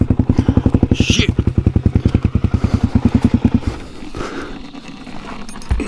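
Suzuki DRZ400E enduro motorcycle, fitted with a safari tank and comfort seat, idles after spinning off, a loud, rapid, even thumping that cuts out partway through, leaving quieter clatter and rustling.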